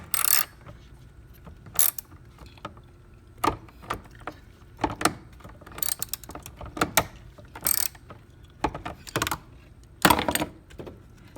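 A ratchet wrench tightens the battery hold-down clamp on a 2013 VW Passat in repeated short bursts of rapid clicking, close and crisp, spaced by pauses with quiet between.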